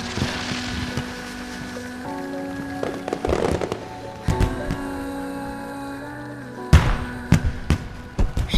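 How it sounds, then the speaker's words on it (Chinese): Fireworks bursting outdoors at night, a series of sharp booms and crackles at irregular intervals, some near and loud, others softer, over a steady hiss of background noise. "快看烟花！"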